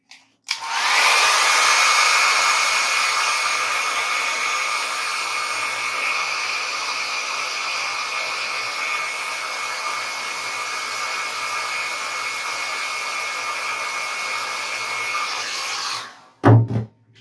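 An electric hair dryer blows steadily over a watercolor landscape painting, a loud, even whir that runs for about fifteen seconds before cutting off, followed by a couple of brief knocks.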